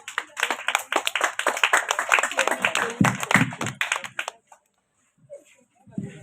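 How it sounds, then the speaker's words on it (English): A crowd claps for prize winners at a flowers day event, with quick, overlapping handclaps for about four seconds that stop abruptly. Near-silence follows, then a voice speaks briefly. "Clap your hands."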